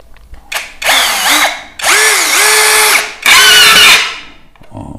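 An APR 13 Pro cordless drill whirs in three short bursts separated by brief pauses, close and loud, its motor pitch dipping under load as it bites into soft wood.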